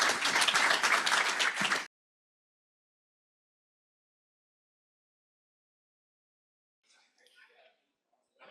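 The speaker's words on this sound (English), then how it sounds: "Let's give a round of applause to Colin." An audience gives a round of applause, a dense burst of clapping lasting just under two seconds before the room falls silent, followed by faint scattered sounds near the end.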